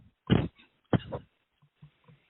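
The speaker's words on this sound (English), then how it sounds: "Excuse my cough" Two sharp coughs from an adult man during a spoken study session, close and loud, followed by faint throat sounds and soft breaths in a quiet room.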